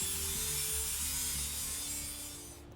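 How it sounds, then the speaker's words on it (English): A grinder working a steel bumper panel back to a scribed line: a steady, quiet abrasive hiss and scrape that runs continuously, then tapers off at the end. "So I'm grinding back to the scribed line as exactly as possible because I want a tight joint."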